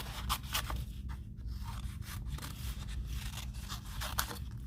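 Designer series paper being cut out by hand with scissors, giving a run of quick, close snips and rustling paper shifts at an uneven pace, quiet with no talking.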